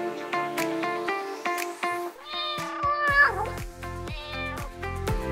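Several cats meowing close by, repeated drawn-out mews with rising and falling pitch, one after another, some overlapping.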